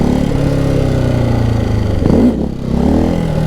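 A Ducati 698 Mono single-cylinder motorcycle engine holds a loud, steady rev, dips sharply as the clutch is dropped for a clutch-up, then climbs back to a strong drone, close and continuous.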